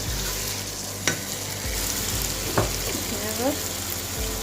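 Half-boiled chana dal frying in spiced masala, a steady broadband sizzle with a few sharp stirring scrapes and clinks over the hiss.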